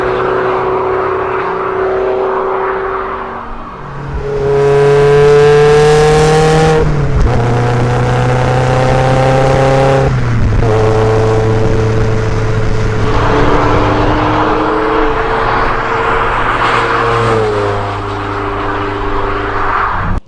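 Deep, rumbling exhaust of an NC Mazda Miata with an aftermarket muffler revs hard several times, close and loud, dropping back to a throaty burble between pulls.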